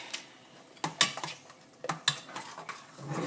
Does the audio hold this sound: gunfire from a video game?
no